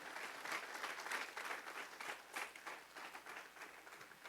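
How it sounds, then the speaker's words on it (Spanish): A church congregation applauds during a Spanish-language Bible study service, with fairly quiet, steady clapping from many people that rises and falls slightly over a few seconds and carries no voices. "¿Por qué no le da un aplauso en esta tarde al Señor?"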